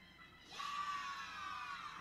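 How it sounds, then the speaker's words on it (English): Screaming in the Roblox game Escape Mr. Pig's Detention, a sustained high-pitched shriek that starts abruptly and holds loud and steady for over a second. "you don't have to scream in my damn ear"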